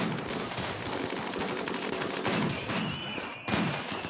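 Rapid video game gunfire rattles through a dense, steady wash of battle noise, with bursts overlapping and one sharp louder shot near the end.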